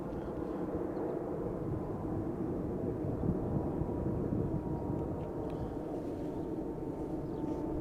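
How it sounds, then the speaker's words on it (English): An Embraer E2 jet passes overhead at Schiphol airport, a continuous broad distant roar of steady loudness with no talking. "E2 Embraer passing overhead on its way to Copenhagen"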